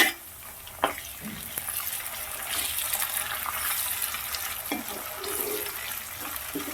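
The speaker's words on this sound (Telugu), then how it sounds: "ఇట్లా చక్కగా గోల్డెన్ కలర్ వచ్చేంత వరకు చక్కగా వేయించుకుందాము టమాటో కూడా యాడ్ చేసేసుకుందాము" Onions and tomato fry in a pan, a soft, faint sizzle with light stirring scrapes and a few clinks, steady and close.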